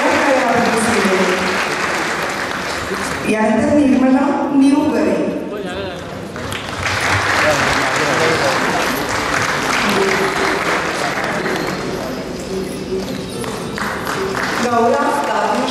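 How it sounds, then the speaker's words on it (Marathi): An audience claps at a Vijay Diwas ceremony honouring a war hero's family. Dense, sustained applause fills the hall while a woman announces over it through a PA. "दरवेळेला टाळ्यांचा कडकडाट करायला मिळेल"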